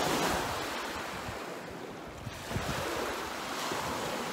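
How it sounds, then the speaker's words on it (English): Waves wash in a steady, rolling surge against a sandy lake shore below dunes, with gusts of wind buffeting the microphone over the constant water noise. "watching the waves lap up on the shore."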